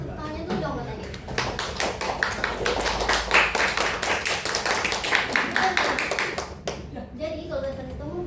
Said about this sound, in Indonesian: Kalau kasih tepuk tangannya tuh dong buat Adit.